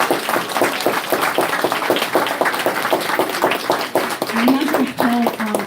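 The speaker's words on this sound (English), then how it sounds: "So can I have a round of applause for everybody," Audience clapping at a women's awards event, rhythmic and fairly close, with distinct individual claps and a voice briefly heard over it toward the end.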